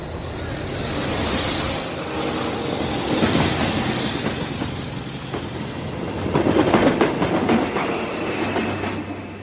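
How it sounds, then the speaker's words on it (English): A train pulls away from a station on the Bristol to London line, a steady loud rumble of wheels and carriages with rising squeals and clatter as it gathers pace. "The train departed without him."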